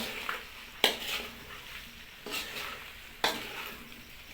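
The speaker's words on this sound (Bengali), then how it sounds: "হালকা জল দেওয়া হচ্ছে। ভালো করে নেড়ে চেড়ে নিতে হবে।" A capsicum, radish and eggplant curry is stirred in a pan with a little water, three sharp spatula scrapes standing out over a soft, steady sizzle, with no talking.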